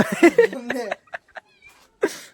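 A voice mimics a cat's meow in a couple of short nasal calls, followed by brief scattered sounds and a faint breathy noise near the end.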